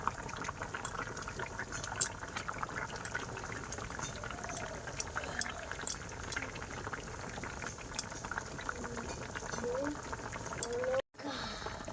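Water bubbles and simmers steadily in a pot where fish is cooking with a ginger, garlic and cumin spice paste. The liquid sound stays close and continuous while a person talks over it.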